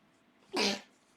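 A single short, sharp sneeze bursts out once, close by, against a quiet background.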